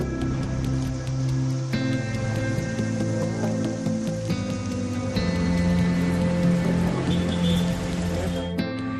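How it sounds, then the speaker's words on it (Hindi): Pre-monsoon rain falling in the mountains of Uttarakhand, a steady, continuous patter and hiss that holds at an even moderate level with no voices. "भीषण गर्मी के बीच पहाड़ों पर हुई बारिश की सौगात ने मौसम का मिजाज ही बदल दिया है"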